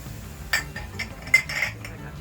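Glass canning jars clinking and knocking together as they are readied for the next batch of sauerkraut, a few close, bright clinks over a low background hum.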